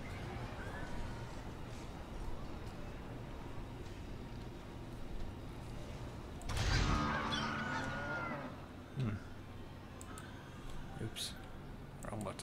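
Ducks, turkeys and other fowl honk in the Mars colony game Surviving Mars, a loud burst of goose-like honking midway over a droning background, with a few shorter calls after and talk at times.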